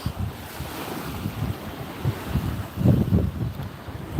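Waves washing in steadily along a bay shore at Mechelinki pier, with rumbling wind buffeting the microphone and a slightly stronger surge near the end.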